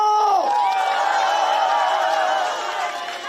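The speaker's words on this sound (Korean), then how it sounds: "다시 한번 뜨거운 박수와 함성을 함께 해주십시오" A large crowd at an outdoor political campaign rally in Gongju, Buyeo and Cheongyang, South Korea, cheers and shouts loudly and continuously, voices merging into a sustained roar with some applause underneath.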